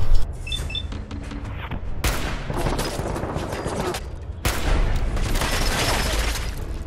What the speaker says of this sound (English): who's got the grenade launcher?